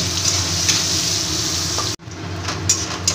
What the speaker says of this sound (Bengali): উচ্ছেটাকে লাল লাল করে এবার ভেজে নেব